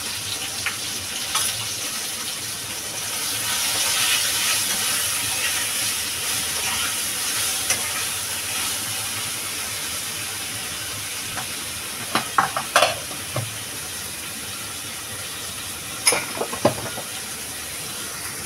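Crab and elephant apple sautéing in a pan with salt and turmeric, a steady sizzle and hiss with occasional scraping stirs and clinks, no voices.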